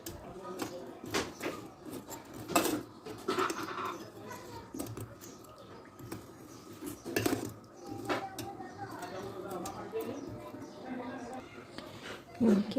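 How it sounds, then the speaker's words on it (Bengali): A spoon stirs sherbet in a glass, sending repeated clinks and scrapes against the glass close by, with soft background noise between strokes. "এখন ভালো করে এটা নাড়ার পালা, কারণ এটা যত বেশি নাড়া হবে শরবতটা ততই বেশি ভালো হবে।"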